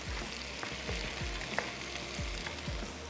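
Yogurt is stirred into chicken jalfrezi in a pan, a soft sizzle with faint repeated stirring scrapes at a low level, no talking.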